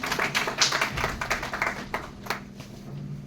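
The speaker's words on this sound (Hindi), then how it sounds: "एक बार जोरदार तालियां।" Audience applause at a college health talk in a hall, a burst of scattered clapping that is dense at first and thins out as it fades.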